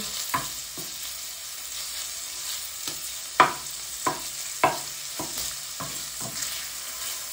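Sausage browns in a hot pan with a steady frying sizzle, broken by several sharp scrapes and clacks of a utensil stirring it, close up with no talking.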